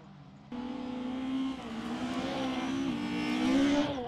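Rallycross race cars, including an Opel Astra and a Volvo, roar through a European circuit at Valkenswaard, a sustained loud engine note rising and shifting in pitch as gears change, with no voices.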